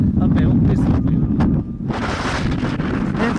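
Strong gusting wind roars across a microphone on a mountain ridge near Monte Velino in the Apennines, a loud continuous rumble that briefly dips before surging back.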